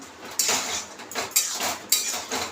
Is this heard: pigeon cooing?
no